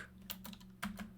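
Quiet keystrokes on a computer keyboard while entering router configuration commands, a handful of soft, separate clicks over a steady low electrical hum.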